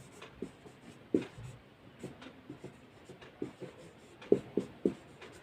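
A pen or chalk writes an algebra expression by hand in scattered short strokes and taps, close and fairly quiet, with irregular rhythm and a cluster of sharper marks toward the end.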